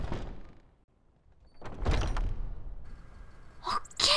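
A door opening in a video game: a soft thud and scrape midway, followed by a couple of sharper clunks near the end, heard alone against a quiet background.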